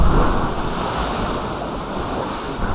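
Steady roar of ocean waves breaking on a shore at a cove on Boracay island, with gusty wind buffeting the microphone throughout.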